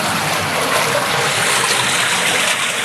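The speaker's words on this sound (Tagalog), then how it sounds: "Dito oh, sa nakalagaslas na tubig." A rushing stream gushing over rocks in a natural setting, a loud, constant broadband roar of water with gurgling texture, close up and steady throughout, with no voices.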